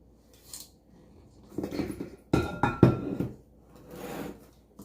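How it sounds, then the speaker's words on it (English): A spatula scraping and knocking against a bowl while cinnamon roll dough goes in, a handful of close, moderately loud clattering scrapes with short pauses between them. "I just use my spatula to get the dough inside the bowl."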